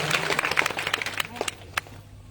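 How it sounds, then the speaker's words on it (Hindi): Applause from a devotional gathering at a Bhagwat Katha held in a temple, a burst of close hand-clapping from the crowd that thins out and fades within a couple of seconds. "एक बार दान दाते हुए जोरदार तालियां"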